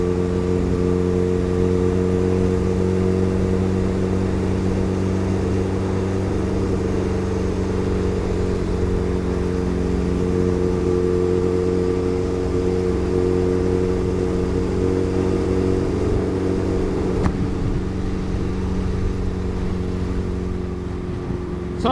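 A Honda CB750 cafe racer rebuild runs under way, its engine giving a loud, steady, even drone that holds almost unchanged throughout, with no voices.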